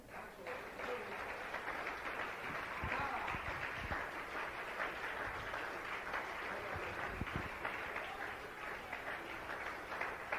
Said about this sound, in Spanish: Dele ejercicio a sus manos con un aplauso al Señor.